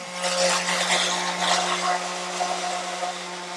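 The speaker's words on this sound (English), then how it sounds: "So we're doing a little bit of sanding." A power sander whirs steadily against wood, a continuous buzzing hum with a gritty abrasive texture, close by and without pauses.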